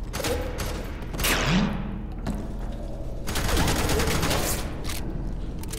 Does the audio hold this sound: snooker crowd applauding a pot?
no